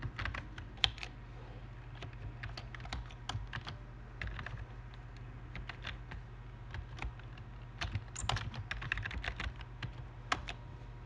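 Commands are typed on a computer keyboard as a series of quick, irregular key clicks and taps at close range over a low steady hum, with a denser burst of keystrokes near the end.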